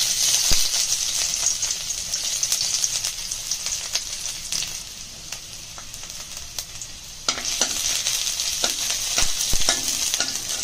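Ginger and garlic fry in hot oil in a kadai, a bright steady sizzle punctuated by clinking spoon stirs against the metal, close up and without any talking.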